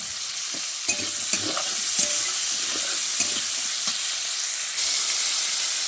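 Potatoes and shrimp frying in a pan, a steady loud sizzle with a few scraping knocks of stirring, and no voices.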